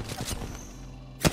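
Gunfire in the Apex Legends battle royale game: a short burst of shots opens, then a quieter stretch with game sounds, and a loud shot or blast near the end.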